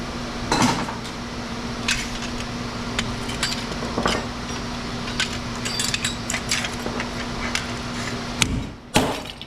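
Repeated metallic clanks and bangs of hammering copper out of scrap metal, irregular and fairly close over a steady background hum, with no talking.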